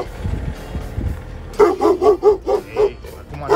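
Dogs at houses beside a forest on a mountain trail bark in a quick series of about eight loud, fairly close barks after a brief stretch of low rumbling.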